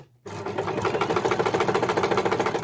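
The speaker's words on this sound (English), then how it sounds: "we're basically just going to sew all the way around now" A sewing machine stitching around the edges of a piped cushion cover, starting after a brief silence and then running steadily with a fast, even mechanical rhythm, close up and alone.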